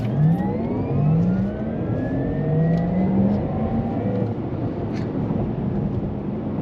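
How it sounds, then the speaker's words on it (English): A Porsche Taycan 4S accelerates hard on the Autobahn, its electric drive whine rising in pitch in repeated sweeping tones over loud, steady road and wind noise heard from inside the car. "you are joining me on the Autobahn with the Porsche Taycan 4S"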